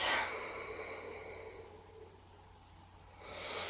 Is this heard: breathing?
yes